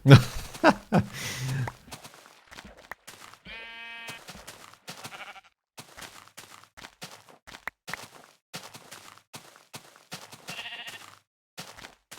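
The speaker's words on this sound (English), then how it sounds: "that sheep scared me" A single wavering sheep bleat from the video game Minecraft rings out clearly in a quiet space, surrounded by scattered soft taps and clicks and a few brief noises.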